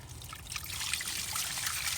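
Water trickles through a drip irrigation line as a ball valve is opened slightly to flush a Y filter. A soft, steady hiss and burble continues throughout at a moderate level.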